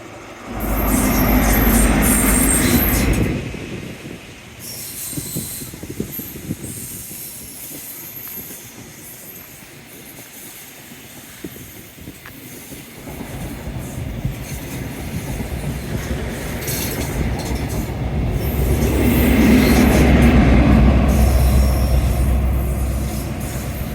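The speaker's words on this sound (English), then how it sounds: "Another very slow moving train." A very slow-moving train rounding a bend by a seawall, its wheels squealing and hissing loudly at the start, fading to a low rumble of passing cars, then swelling again into sustained squealing near the end.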